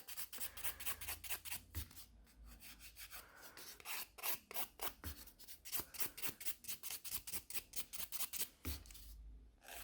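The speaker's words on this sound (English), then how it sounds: "That's the first nail filed." An acrylic nail is filed in quick, close back-and-forth strokes, a rapid rhythmic rasping that runs nearly ten seconds with a few brief pauses.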